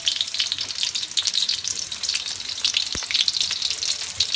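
Garlic and onion frying in a pan for Filipino pineapple chicken, giving a steady, dense crackling sizzle throughout with a single sharp tap partway through.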